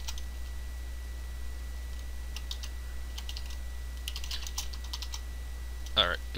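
Typing on a computer keyboard, scattered soft key clicks in short bursts, close but faint over a steady low hum, with one sharper tap near the end.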